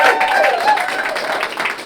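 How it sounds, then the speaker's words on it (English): Audience applause during an interview show honoring Motown singers, a broad wash of clapping and crowd noise that holds steady and loud throughout. "Give them a round of applause as well."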